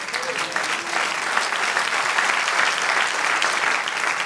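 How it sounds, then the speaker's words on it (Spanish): Sustained applause from a church congregation, steady and dense clapping throughout with no pauses. "Un aplauso al Señor"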